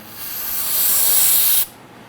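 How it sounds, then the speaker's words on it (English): A steady, bright hiss of an aerosol solvent spray can held down for about a second and a half, then abruptly released, close by. "Now I'm going to put some spray solvent on a towel here."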